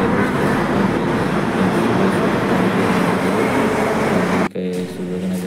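A train rumbles at a railway station with a continuous loud, dense noise. The sound cuts sharply near the end and then continues at a slightly lower level.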